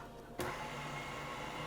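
An electric mixer starts abruptly and then runs at a steady whirring hum, beating cupcake batter after buttermilk is added.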